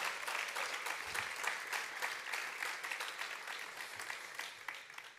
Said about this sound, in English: One more round of applause to all our 20 and 25-year Service Award